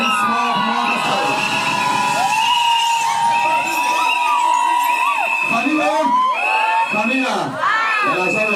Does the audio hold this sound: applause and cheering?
yes